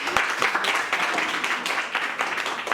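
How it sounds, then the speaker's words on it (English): An audience at a debate competition final claps in a brisk, fairly close burst of applause, many hands beating in quick irregular rhythm, with faint voices underneath. "Give a round of applause once again."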